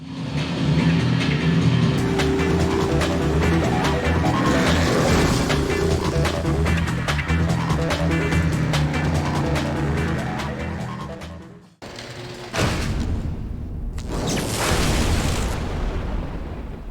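Racing cars in the video game Need for Speed Porsche Unleashed, with loud revving engine drone and game music for about twelve seconds, a sudden cut, then more engine noise and bursts.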